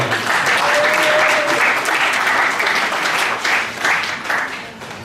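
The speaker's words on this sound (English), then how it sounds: "Please, let's give our ambassador an applause" An audience at a Cameroon Youth Day gathering applauds the ambassador representing President Paul Biya, a dense, steady wash of many clapping hands holding strong for about five seconds with slight swells.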